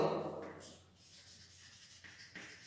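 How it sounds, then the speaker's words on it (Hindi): Faint, short scratching strokes of writing on a board during a physics lecture on capacitors, a few quick marks with quiet gaps between them in a hushed room. "यानी मैं लिखता हूं"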